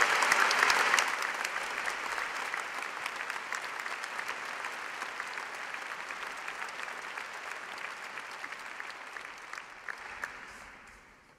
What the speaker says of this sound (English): Please join me in a round of applause to the graduating class.